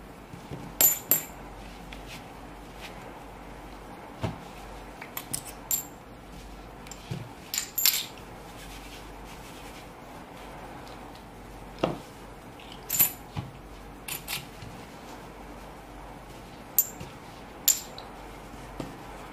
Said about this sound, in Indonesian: So, langsung aja kita akan main dengan koin.